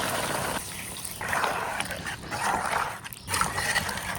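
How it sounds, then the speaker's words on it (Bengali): Water is poured into a pot of chicken cooking with green papaya, a steady close splashing rush that runs throughout with small dips in level. "এখন হারা জল দিয়ে দিব।"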